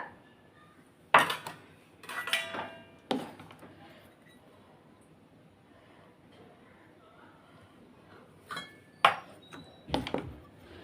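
A ladle scoops idli batter into oiled idli moulds, giving sharp metallic clinks and clatters in two short clusters separated by a quiet stretch.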